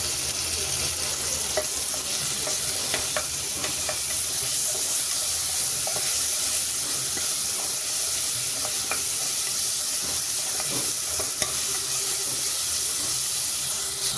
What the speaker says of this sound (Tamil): இப்போ இஞ்சி பூண்டு பேஸ்ட் போட்டுக்கலாம்.